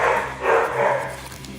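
A pet dog barks in a home as a child arrives late, a few close, loud barks blending into a continuous stretch over steady background noise, with no talk.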